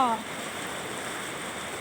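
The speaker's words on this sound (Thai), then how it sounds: "น้ำไหลแรงมากเลยค่ะ" Strong floodwater current rushes through a village in Pak Chong, Nakhon Ratchasima, as a steady, broadband roaring wash. It sounds close and continuous after a brief voice at the start.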